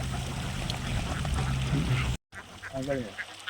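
Ducks on a duck farm grazing in a harvested paddy field give nasal quacks and honks, a noisy flock at first, then a few clearer close calls after a brief gap.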